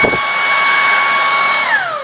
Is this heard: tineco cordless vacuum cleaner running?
yes